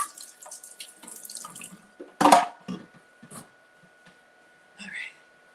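Fruit is rinsed under a kitchen tap in short bursts of running, splashing water, with one louder gush and a few drips. A person talks briefly in between.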